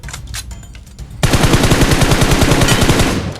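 Rapid automatic gunfire from PUBG Mobile bursts in loudly after a few scattered shots, continuing as a dense, steady rattle of shots for the rest of the moment.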